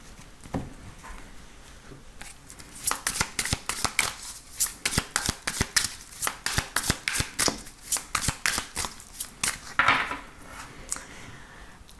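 Tarot cards shuffled rapidly by hand, a long series of crisp riffling bursts in quick regular rhythm, close and fairly loud, tapering off toward the end.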